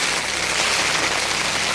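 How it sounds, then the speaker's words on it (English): Hail falls on a campsite near hot springs, a dense, steady hiss of countless tiny impacts with no distinct individual hits and no voices. "So it started hailing on us."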